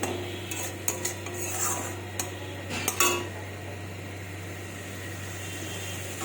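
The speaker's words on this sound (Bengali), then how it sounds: "ভালো করে কষিয়ে নেব পেঁয়াজটা হাই ফ্লেমে কষিয়ে নিচ্ছি" Spoon scraping and clinking against a metal pan while onion fries on high flame, a few sharp knocks early over a steady low hum, then a quieter steady stretch.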